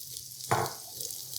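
Diced onions drop onto a small electric hot pot griddle set to medium, giving a short burst of sizzling that settles into a quiet, steady fry.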